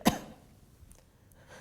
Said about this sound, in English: And then give a cough.